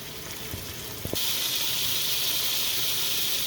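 Swordfish searing in a pan gives a steady, loud hiss and sizzle that jumps up sharply about a second in, with a couple of soft clinks just before, then holds constant with no talk.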